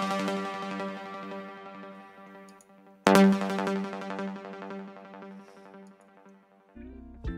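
A synth sound with added reverb in a dark liquid drum and bass mix, sustained harmonic tones ringing with a long tail, a fresh louder hit near the middle, then a low thump at the end; no talking.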